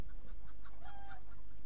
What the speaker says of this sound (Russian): Вот и курица.